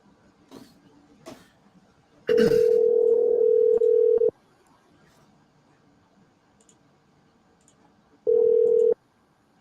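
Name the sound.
phone call dial tone and dialing played through cell phone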